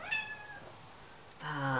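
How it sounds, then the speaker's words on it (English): A house cat meows twice, each a clear, fairly close tonal call separated by a short pause of near-quiet room tone, with the second meow slightly stronger. "She won't stop meowing."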